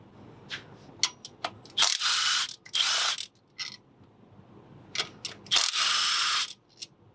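A ratchet wrench clicks in quick bursts, loud and close, while backing out 12 mm fuel rail bolts on a Toyota Prius, with short pauses between the spurts of ratcheting.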